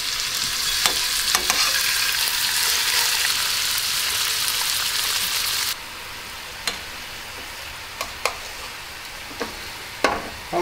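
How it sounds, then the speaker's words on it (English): Pork chops fry in a pan with garlic, a loud, close sizzle that drops abruptly to a quieter hiss halfway through, with sharp taps and clicks of utensils scattered throughout. "now we start with the pork chop"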